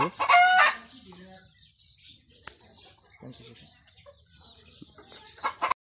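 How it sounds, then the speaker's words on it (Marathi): A rooster on a rural farm crows loudly and close for under a second, followed by softer scattered clucks and chirps from nearby chickens and birds. "आणि एक कोंबडा समोर सुद्धा कोंबडा."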